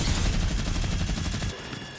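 A Gatling gun in the video game Boom Tycoon 2 fires a loud, rapid, continuous burst for about a second and a half, then cuts off, leaving a faint hum.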